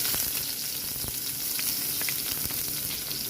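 Ginger, onion and garlic sizzle steadily in hot oil for an adobong pusit, a bright, continuous frying hiss with occasional stirring clicks, close and loud with no voices.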